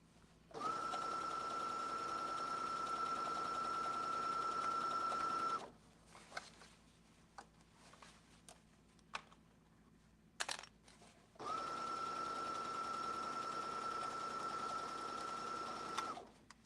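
A sewing machine stitches around an opening in two long steady runs with a constant whirring hum, separated by a pause filled with quiet handling clicks and thumps.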